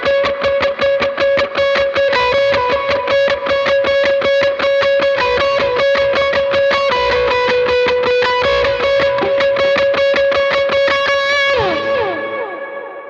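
Electric guitar drenched in big reverb plays a part at tempo: repeated picked notes over a sustained drone, loud and alone, ending in a swelling, washing tail.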